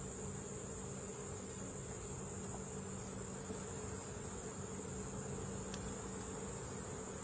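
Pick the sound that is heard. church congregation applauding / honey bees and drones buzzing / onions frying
honey bees and drones buzzing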